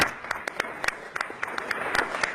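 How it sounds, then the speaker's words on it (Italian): Applause breaks out at the International Olympic Committee session in Buenos Aires as the Olympic candidacies, including Cortina-Milano, are approved. It comes through as a brief, moderately loud stretch of scattered clapping with some sharper claps standing out. "Un applauso liberatorio"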